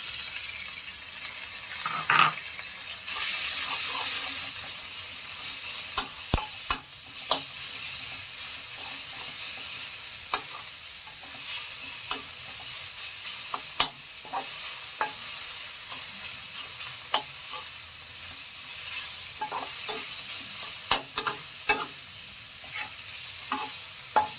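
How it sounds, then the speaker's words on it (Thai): Minced pork stir-frying with chopped garlic and chilli over medium heat, a continuous hissing sizzle with regular sharp clacks and scrapes of a spatula on the pan, without any speech. "กระเทียมสับพริกสับ ร็จเรียบร้อยใส่หมูสับลงไปนะครับ"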